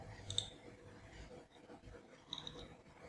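Faint, close computer mouse clicks, two quiet clicks about two seconds apart over low room noise, no talking.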